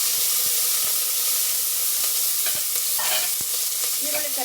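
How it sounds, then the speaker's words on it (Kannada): Onion and curry leaves frying in hot oil make a close, continuous sizzle and hiss, broken by a few sharp ticks and pops and some stirring scrapes. "ಈಗ ಈರುಳ್ಳಿ ಕರಿಬೇವು ಸೊಪ್ಪು ಹಾಕ್ತಾಯಿದ್ದೀನಿ."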